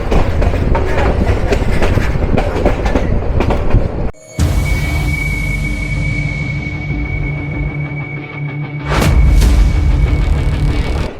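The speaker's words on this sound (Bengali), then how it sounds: "এই ট্রেনটি কিশোরগঞ্জবাসীর একমাত্র লাল সবুজের পিটি ইনকার কোচ।" The Kishoreganj Express intercity train, with red-and-green PT Inka coaches on the Dhaka to Kishoreganj run, rumbles and rattles loudly and continuously. A brief dropout gives way to a steadier humming ride with a faint whine, then a louder rush of noise.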